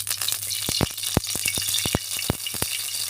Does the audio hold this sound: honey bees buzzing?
no